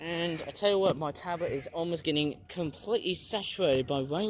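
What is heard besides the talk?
No everyday noises stand out.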